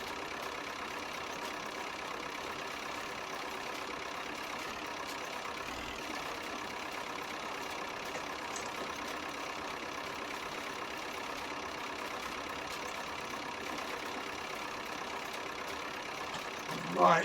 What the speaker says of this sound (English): Tractor not pulling anywhere near as hard going this way.